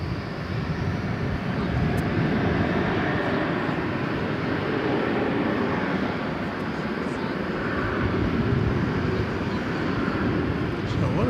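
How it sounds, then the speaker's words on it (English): The Qantas Flight 8 airliner bound for Sydney at DFW Airport, a broad, steady jet roar at night that holds constant throughout with faint distant ambience. "that's the Qantas Flight 8 going to Sydney"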